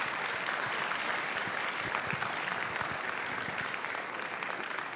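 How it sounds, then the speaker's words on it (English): A warm round of applause from an audience for a lifetime achievement award recipient. It is steady and even throughout, moderately distant and fairly quiet, with no voices over it. "give her a warm round of applause"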